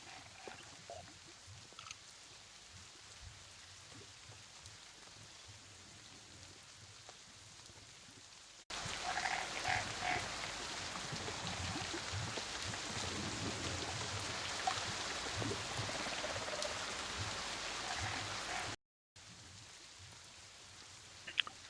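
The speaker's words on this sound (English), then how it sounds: "He hears the bathroom and the crickets and all the frogs" Steady rain ambience with a dense, hissing wash that swells louder midway, joined by faint frog croaks and insects, with a brief dropout near the end.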